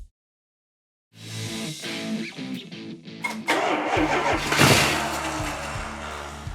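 A van engine cranks after a second of silence, catches and fires up, then keeps running with a rough, close, steady idle and a brief rev.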